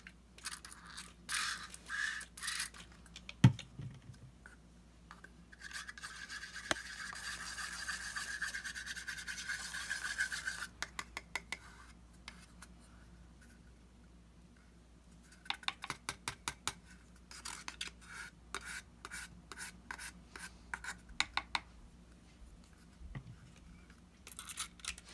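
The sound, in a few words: mixing mica powder with rubbing alcohol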